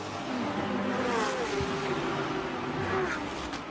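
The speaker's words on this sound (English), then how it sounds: "And again, that's a Bentley." A Bentley GT race car at Road America roars past with a sustained engine drone and shifting pitch, moderately distant, steady throughout with no voices.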